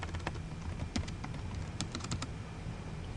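Fingers type on a computer keyboard, a quick irregular run of light key clicks heard close and fairly quiet over faint room noise.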